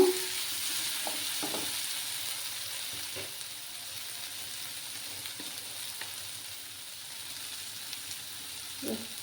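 Dry fish, potato and brinjal curry cooks in an uncovered pan with a soft, steady sizzle, broken by occasional scrapes and clinks of a spoon being stirred through it.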